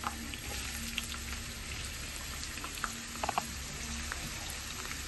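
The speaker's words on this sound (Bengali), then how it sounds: "আমি পেঁয়াজ দিলাম তেল গরম হয়ে গেছে" Onion pieces frying in hot oil in a home kitchen, a steady sizzling hiss throughout with a few louder crackles and pops near the end, close and fairly quiet.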